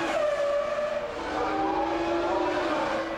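Formula 1 cars racing at around 190 mph in the 2000 season, with Häkkinen's McLaren closing on Schumacher's Ferrari, high-revving engines whining with rising and falling pitch as they pass close.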